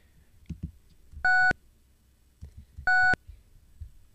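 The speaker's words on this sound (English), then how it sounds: "this is a mix between the square wave and the sine wave" Two short, steady PICO-8 synthesized tones mixing square and sine waves, organ-like, each about a quarter second, separated by a pause, with faint clicks and quiet noise in between.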